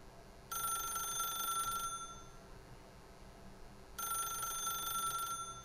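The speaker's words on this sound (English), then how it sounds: "God, that's an annoying ring." An annoying telephone rings in the video game The Stanley Parable, two long bursts of bright, electronic ringing separated by a pause over a faint room hum, with no talking.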